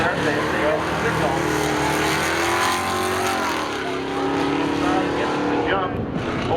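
Race cars launching together at a spectator drag race at Seekonk Speedway, engines rising loudly in pitch as they accelerate away, with tire squeal and a race announcer talking over the roar.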